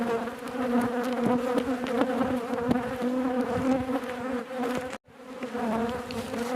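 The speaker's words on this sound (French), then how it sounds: "vous allez voir, devant les ruches, il y a quand même du monde. Il y a une très forte activité." Honey bees swarm in front of their hives with heavy activity, giving a dense, continuous buzzing drone with individual bees zipping past close by and a brief cut near the end.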